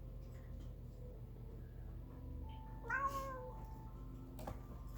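A young cat gives one short meow in a home kitchen where toffee is being made, heard over a steady low background hum and a few faint ticks, with no talk.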